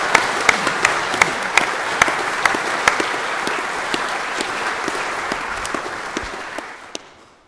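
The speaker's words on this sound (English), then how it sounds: "I think we ought to give him a round of applause." Audience applause at a bell ringers' council meeting, a steady round of many hands clapping from a seated crowd, fairly close and sustained for several seconds before tapering off at the end.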